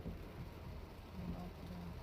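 Heavy rain falls during a windstorm, making a steady, dense wash of rainfall with a low rumbling underlayer that runs throughout, faint and fairly distant.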